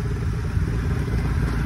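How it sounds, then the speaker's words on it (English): A motorcycle engine running steadily just after being started on a night street at a market, a close, loud, continuous rumble with a slightly clattering texture. "Finally, bike is started."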